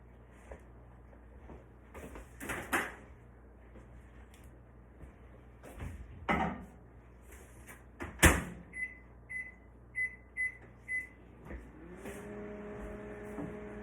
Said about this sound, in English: we are going to microwave it for 12 minutes